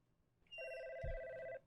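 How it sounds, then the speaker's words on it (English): A telephone rings once in the video game God's Basement, a clear electronic two-tone bell tone lasting about a second, with a brief low thump midway, alone and fairly close. "Hear a phone."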